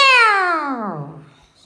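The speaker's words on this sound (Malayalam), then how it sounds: "എന്നിട്ടോ മ്യാവ് എന്ന് പറഞ്ഞ ഒച്ചയുണ്ടാക്കി" A single drawn-out cat meow, loud and close, that starts high and slides steadily down in pitch before fading out.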